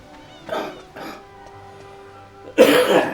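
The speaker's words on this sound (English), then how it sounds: "I still got a little bit of a cough." A few sharp, raspy coughs close by: two quick ones early, a pause, then a louder harsher cough near the end.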